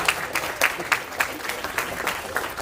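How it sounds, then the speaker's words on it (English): A church congregation applauds during a Sunday worship service, a steady spread of claps from a modest crowd, moderately loud and continuous for a couple of seconds, with a voice faintly underneath. "give him another round of applause."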